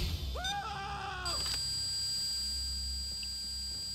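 Alarm in a Payday heist, a steady high electronic tone that begins partway through and holds continuously, preceded by a short warbling bleat-like sound.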